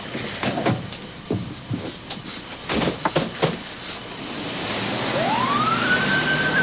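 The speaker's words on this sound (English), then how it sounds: "Seeing the ambulance leave, I could feel for the family" An ambulance siren rises and wails steadily over a noisy background of scattered knocks and rumble, growing louder toward the end.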